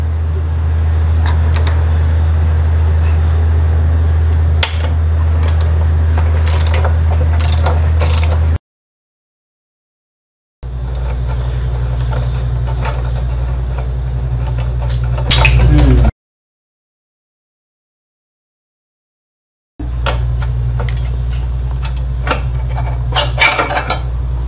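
Metal tool clinks and ratcheting clicks come from bolts being loosened on a Royal Enfield Classic 350 motorcycle's gear lever. The sounds are loud and close over a steady low hum, with two gaps of total silence.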